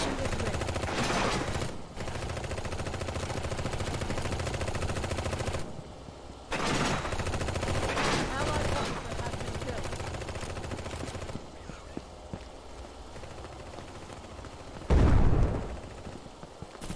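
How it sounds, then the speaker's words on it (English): Gunfire in the competitive FPS video game EXIMIUS: Seize the Frontline, with dense bursts of shots and a sharp loud blast near the end, heard over background game sounds. "Gunshot from here."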